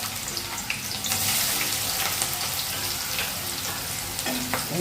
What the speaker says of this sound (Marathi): हे कढईत टाकलं तेल, 2 चमचे तेल टाकलं, त्याच्यात आपण टाकू कांदा